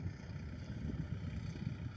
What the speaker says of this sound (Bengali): এই হচ্ছে আমাদের খড় গুঁড়ানো মেশিন চলছে।